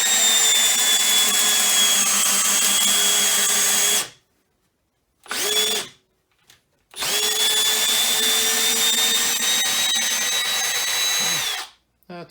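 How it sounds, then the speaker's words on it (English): A Skil 12V brushless cordless drill motor runs at low speed with a steady whine, stops briefly, gives a short burst, then runs steadily again before cutting off, loud and close. "listen to the pitch of the motor"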